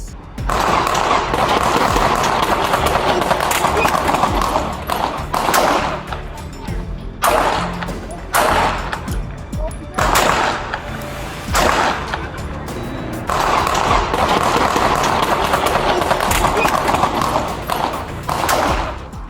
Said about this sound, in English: Police rushed in as gunfire erupted again.